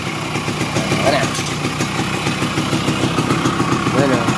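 A Yamaha RS100 motorcycle runs after a spark plug repair, its engine idling with a close, rapid, uneven putter under people talking nearby.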